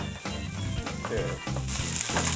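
Flour browns in fat in a pan for hamburger gravy with a steady close sizzle and crackle, running continuously under faint background sound.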